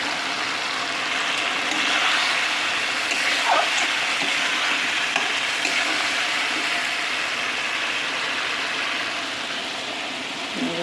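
Water poured into spice masala frying in a pan for a raw jackfruit curry, producing a steady, loud hissing sizzle that carries on for about eleven seconds without pause.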